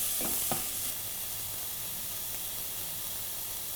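Onions frying in oil in a pan while cooking a homemade cottage pie: a steady, close sizzle and hiss with a couple of brief stirring scrapes near the start.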